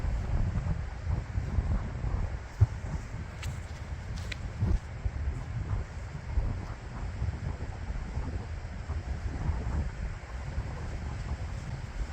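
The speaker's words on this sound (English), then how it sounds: "So we've got a stiff headwind here." A stiff headwind sweeps across an open field, buffeting the microphone with continuous low rumbling gusts throughout, steady and loud.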